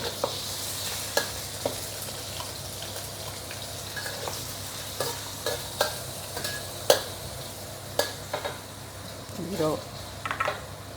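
Shrimp stir-fried with garlic in a hot pan for Mee Goreng, with a steady close sizzle and frequent sharp scrapes and clacks of the spatula against the pan, under a person talking.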